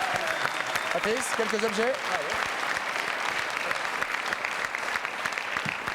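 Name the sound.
TV studio audience applause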